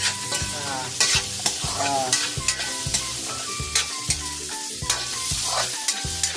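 Chicken stir-fried in a pan for pancit, with steady sizzling and repeated scraping, stirring strokes of a utensil against the pan, close and continuous with no talking.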